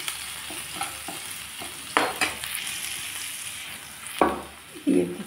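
A paste of onion, tomato, green chilli, cumin, coriander and Kashmiri chilli powder sizzles in a hot pan while a spoon scrapes and stirs it, with steady frying hiss broken by several louder scraping strokes, close up and with no talking.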